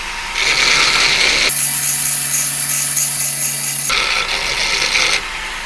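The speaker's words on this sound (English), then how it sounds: "Let's chamfer the bottom of this." An axe head's bottom edge is chamfered with loud, continuous rasping grinding that runs almost without a break for about five seconds. A steadier mechanical hum joins in midway, and no one talks.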